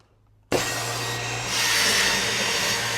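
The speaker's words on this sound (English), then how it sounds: "You'll see it'll come down and it'll drill 3 holes for us." An Omal hinge boring machine starts abruptly after half a second of quiet and drills three holes steadily with a loud whirring grind, rising slightly in intensity partway through.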